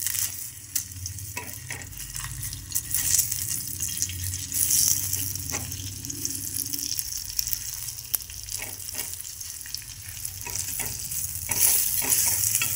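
Onion sizzles in a pan alongside roasted green chillies, a continuous close frying crackle with spoon stirring and scraping throughout, no voices.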